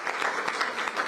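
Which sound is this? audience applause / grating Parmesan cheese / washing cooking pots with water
audience applause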